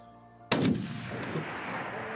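A single loud rifle shot cracks during a mountain goat hunt in rugged terrain, followed by a long, rolling echo that reverberates and decays across the mountainside.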